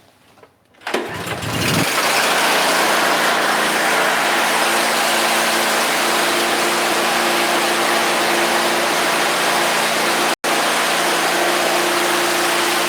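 A Honda HSS928AT snowblower engine catches and settles into a loud, steady running drone, close by, with a brief dropout near the end and no talk over it.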